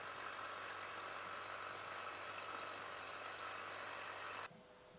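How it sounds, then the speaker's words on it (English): A refrigeration vacuum pump runs with a steady, even mechanical drone and hum, close and fairly loud, then cuts off abruptly near the end, leaving a quiet room tone. "Turn off the vacuum pump and disconnect it from the system."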